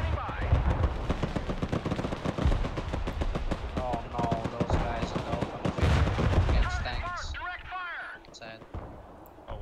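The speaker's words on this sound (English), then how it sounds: "I'm firing a rocket here." Rocket artillery in the video game Broken Arrow fires in a loud, dense barrage of rapid repeated blasts, with voices talking over it before the volleys thin out toward the end.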